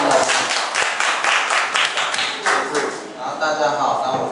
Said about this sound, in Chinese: 我们掌声欢迎耀智